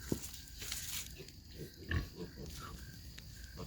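A pig on a farm grunts a few times at low volume, with short snorts scattered through the clip and a louder grunt near the middle, against quiet outdoor background noise.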